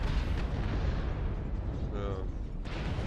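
LBX/5 cannon fire from an RFL-3C mech in Mechwarrior Online, heavy booming blasts with rumbling low-end, loud and close, a fresh blast near the end, with voices talking over it.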